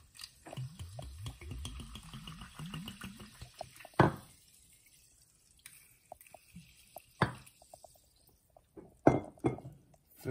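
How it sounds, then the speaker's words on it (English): Socosani sparkling mineral water from Peru poured from a bottle into a container, a run of bubbling, gurgling splashes followed by scattered fizzing pops and drips, close and fairly quiet. "Let's pour some water in."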